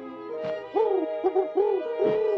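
Cartoon owl hoots in a Smurfs episode, a series of clear, loud wavering hoots in close succession, each rising and falling, with no talking.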